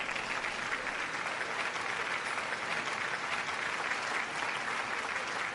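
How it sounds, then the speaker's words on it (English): A crowd of people at a Stealth Camping Alliance nomination event claps continuously, an even wash of applause at moderate level with no talk over it. "Give yourselves a decent round of applause."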